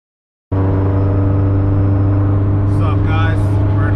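Tuned Honda VTEC car engine firing up after half a second of silence, then settling into a loud, steady, close idle drone; a voice briefly speaks over it near the end.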